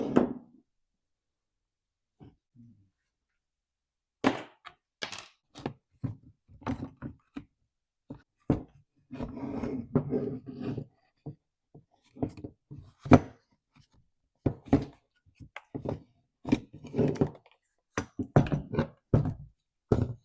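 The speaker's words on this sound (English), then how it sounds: "Let's pry that AV mount out." Prying the anti-vibration mount out of a damaged Stihl MS261 chainsaw brings scattered close knocks, taps and scraping clicks in irregular bursts, separated by quiet gaps.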